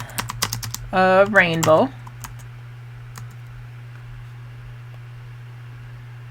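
Typing on a computer keyboard during a Cricut design session, a quick burst of key clicks under a brief spoken phrase, then a few scattered taps over a constant low electrical hum.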